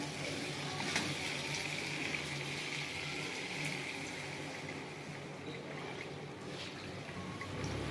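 Water is poured into a pan of potato and taro curry cooked with spices, making a steady, even hiss and bubbling sizzle that runs without a break throughout.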